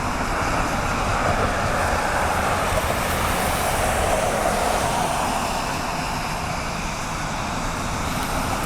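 A United Airlines Airbus A321neo landing on a runway in rainy conditions, its engine roar a steady, loud, broadband rumble that holds throughout without voices.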